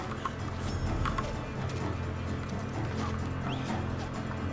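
Horse hooves in Red Dead Redemption 2 clip-clop steadily over a busy ambient game soundscape, with faint clucking fowl mixed in.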